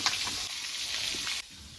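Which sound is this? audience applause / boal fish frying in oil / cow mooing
boal fish frying in oil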